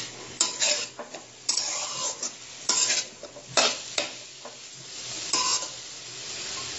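Potato and soya being stirred in a frying pan, a spoon scraping and clinking against the metal at irregular intervals over a steady low sizzle, close and fairly loud.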